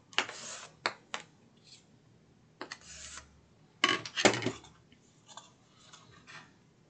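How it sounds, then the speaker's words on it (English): A big spatula rubs across folded paper to curl it and press glue down while making a notecard and paper purse set, giving several short scraping strokes with pauses between them, close and fairly quiet. "I'll take my big old spatula and help to curl this, but also help my glue to stick"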